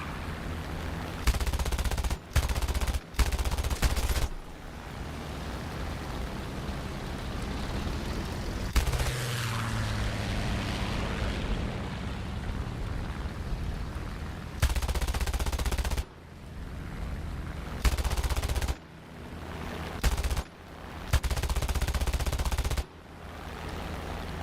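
Aircraft machine guns in War Thunder fire in repeated bursts of varying length, loud and dense, separated by short pauses filled with steady engine and wind noise.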